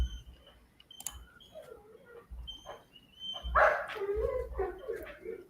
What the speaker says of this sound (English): my dog is whining